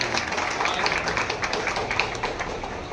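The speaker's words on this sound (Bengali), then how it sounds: "একটু হাততালি দেবেন শুভজিতের জন্য।" Audience applause at a municipal inauguration ceremony in Naihati, a dense burst of clapping from a gathered crowd, fairly loud and steady for a few seconds with no clear speech over it.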